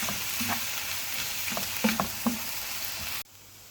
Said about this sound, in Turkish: Soteleme işlemimize devam ediyoruz.